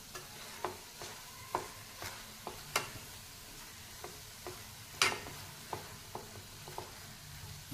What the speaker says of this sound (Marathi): साखर विरघळेपर्यंत झाकण ठेवून परतून घेते.